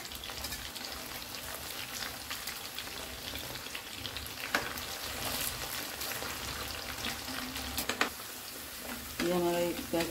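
Chicken tenders fry steadily in hot oil, a dense continuous sizzle close by with occasional crackles and light handling noises throughout.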